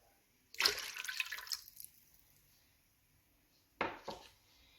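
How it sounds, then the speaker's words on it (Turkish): Water poured into a bowl while mixing dough for Ramadan pide, in two close pours: a longer splashing stream, a quiet gap, then a shorter second pour. "2 su bardağı su koyuyoruz"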